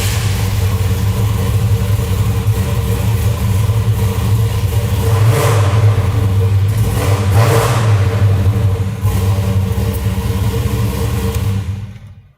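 An engine fitted with Edelbrock Pro Flo 4 fuel injection runs loud and close with a steady rumble, swelling through a couple of revs in the middle before cutting off at the end.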